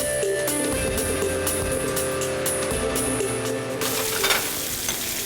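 Oxtail sizzling and frying in a pot as a whole head of garlic and vegetables go in, a loud continuous crackle with stirring scrapes and a burst of stronger hissing near the end, no talk.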